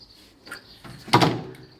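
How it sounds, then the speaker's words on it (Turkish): While weather seals are fitted to a lacquered door, there are a few soft knocks and then a firmer thud of handling and pressing, short and close in a quiet room. "Ustamız da burada kapı fitillerini yerleştiriyor arkadaşlar."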